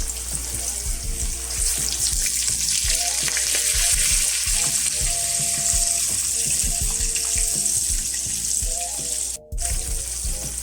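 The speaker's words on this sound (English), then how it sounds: "now it's time to fry our pork chops" Mustard-coated pork chops fry in a pan with a steady, dense sizzle and crackle close up, continuous throughout with a brief dropout near the end.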